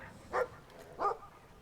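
Two short dog barks, about half a second apart, from a dog in the video game Brothers: A Tale of Two Sons, moderately loud over quiet game ambience.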